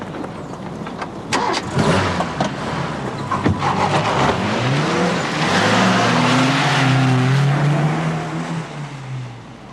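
A green Volvo car pulls away close by with a loud rising engine note that climbs through the gears as it accelerates, then fades while it drives off. The engine plays alone with no voices.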